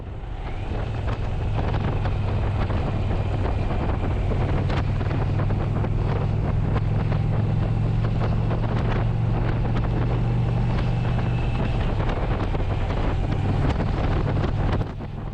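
An Indian Challenger motorcycle is being ridden, and heavy wind rush dominates with a steady low engine drone underneath. The sound is loud and constant throughout, with no talking.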